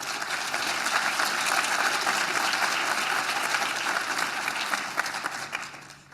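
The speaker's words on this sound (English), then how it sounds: "Let's pause for a moment to give them a round of applause." A breakfast audience at a mental health legislative event claps for honored leaders, with sustained, even applause from a room full of people that holds steady for several seconds and then tapers off at the end.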